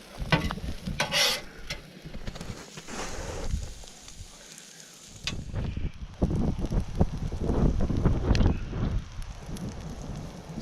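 Corned beef hash, potatoes and eggs frying outdoors at breakfast, a steady sizzle with stirring scrapes throughout, wind buffeting the microphone in places.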